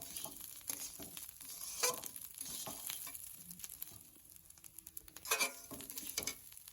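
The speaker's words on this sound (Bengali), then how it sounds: "এবার আমি দিয়ে দেবো জল" Water poured into a pan while cooking eel fish biryani, a soft splashing, sizzling wash with brief louder bursts, close and moderately quiet, with no talking.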